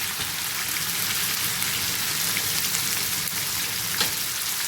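Steady, dense sizzling of lamb frying in a hot pot, a continuous crackling hiss with no talking.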